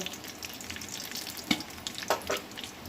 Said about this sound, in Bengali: এই ফোড়নটা এবার ভালো করে একটু ভেজে নেব।